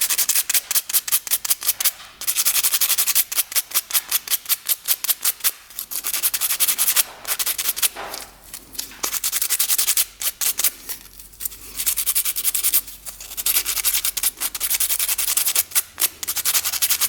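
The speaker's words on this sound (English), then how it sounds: "we're going to take a little sandpaper and just sand that down" Sandpaper rubbing down a brass motorcycle part in quick, steady back-and-forth strokes, close and loud, a dense scratchy rhythm with short pauses between runs.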